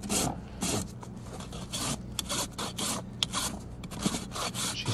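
A farrier rasps a barefoot horse's hind hoof during a trim, with repeated dry scraping strokes in an uneven rhythm, each stroke a short, close, gritty burst.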